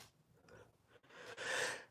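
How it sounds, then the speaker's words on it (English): A single close sneeze, preceded by a couple of quiet breaths, bursts out sharply near the end, fairly soft overall in a quiet room. "I'm gonna sneeze."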